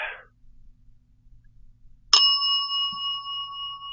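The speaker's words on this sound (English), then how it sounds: "the bell sounds are getting weaker" A battery-charged cat toy ball in a quiet bedroom at night gives one bright metallic bell ding that rings on with a sustained tone after a near-silent start.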